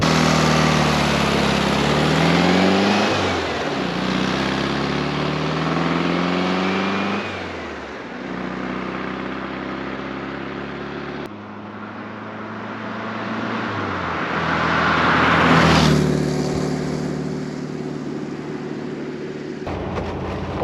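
A 1973 VW Super Beetle passes the camera, its air-cooled engine rising loud as it nears, shifting gears with pitch sweeps, then fading before a second strong revving pass and a sudden cutoff; there is no talk.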